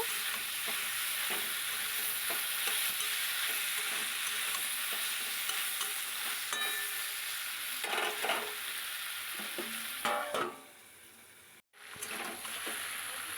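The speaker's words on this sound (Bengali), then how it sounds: "এবার আস্তে আস্তে নেড়ে নেব একটু চাপা দিয়ে দিয়ে করব" Cooked lentils with vegetables are stirred and pressed in a pot, a long steady sizzle with frequent soft scraping strokes of the spoon, close by, briefly cutting out near the end before resuming.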